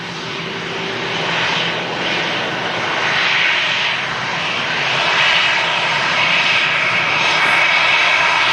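An EasyJet airliner from Paris Orly rolls along the runway at Manchester Airport, a steady, loud, broadband jet roar that holds throughout with a slow swell in intensity and no voices.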